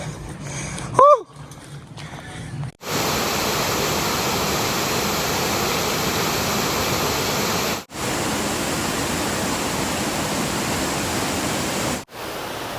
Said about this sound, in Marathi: आता मध्ये हा पुन्हा अजून एक ओढा लागलाय